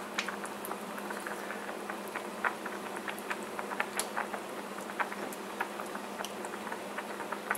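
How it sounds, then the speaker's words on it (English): Spicy sausage Alfredo sauce coming up to a boil in a pan, a steady low bubbling with frequent small pops and sputters scattered throughout, close and fairly quiet, no voices. "You're going to turn your heat up a little bit because you want this to come to a boil"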